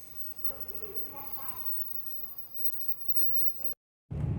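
A Shinkansen bullet train leaving Okayama hums and rumbles steadily from inside the carriage, with a voice talking over it before a brief cut.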